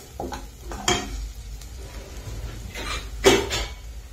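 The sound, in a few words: onion and tomato frying in a pan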